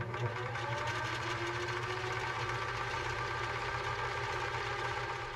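A Vevor mini lathe runs at a steady speed with a thread-cutting tool fitted, giving a continuous mechanical whir and hum at moderate, even volume.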